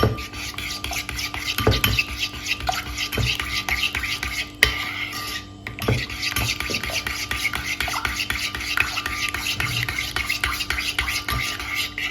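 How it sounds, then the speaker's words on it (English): A spoon stirs turmeric into a homemade soap base, making steady scraping and clinking against the container in a quick repeated rhythm, close and fairly loud with no talk. "and then we just stir it in, and that is more than enough. And you stir, stir, stir."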